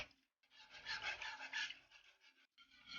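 Milk and heavy cream are whisked together in a bowl, making a quiet, steady scraping and rubbing sound that continues with brief pauses.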